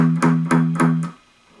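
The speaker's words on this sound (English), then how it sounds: "I'm going to rest the palm about on the bridge here and get a sound like this." An electric guitar string is picked with the palm resting on the bridge, giving four short, dull, muted plucks in a steady rhythm before the sound fades to quiet.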